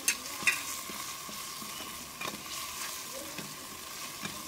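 Masala with salt, red chili and turmeric frying and being stirred in a pan for zeera aloo, a steady low sizzle with a few soft scraping stirs, heard alone.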